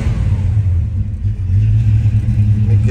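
A 1957 car engine idles steadily just after a cold start, a loud, continuous low rumble close by with slight unevenness in its pulse and no talking.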